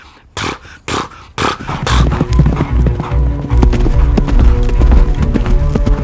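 About forty horses in pairs thunder uphill in a heavy, rolling gallop, hooves drumming close and loud after a few sharp opening thuds, with a whinny amid the rumble.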